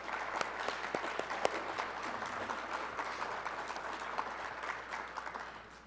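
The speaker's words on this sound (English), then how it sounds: "So let's give them a little round of applause again." Audience applause at a college nursing pinning ceremony, a sustained round of many hands clapping in a large room, steady and moderately loud with sharper individual claps standing out, tapering slightly at the end.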